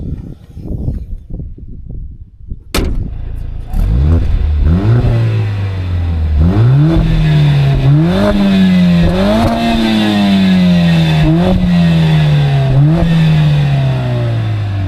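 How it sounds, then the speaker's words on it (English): A Mercedes-AMG A45 S engine starts with a sharp crack, then revs loudly and repeatedly, pitch climbing and falling through several surges of a powerful, close engine. "that is the engine on the A45s."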